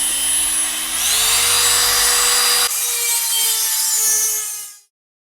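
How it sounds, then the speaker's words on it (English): A Dremel rotary tool whines at high speed while cutting, its pitch rising as it bites in, a steady close grinding hiss that cuts off and winds down to silence at the end. "Yes, you can use a Dremel to do this."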